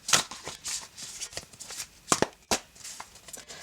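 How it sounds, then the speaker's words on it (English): A deck of tarot cards is shuffled by hand, with a rapid series of crisp riffling and flicking bursts in an uneven rhythm, close and clear with no talking. "So we're shuffling your deck"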